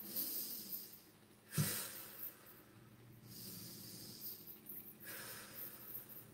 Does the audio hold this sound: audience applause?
no